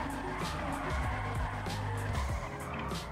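A car drifting in the FiveM video game, engine revving steadily under long, wavering tire squeals that rise and fall through the turns, loud and close, with someone talking over it.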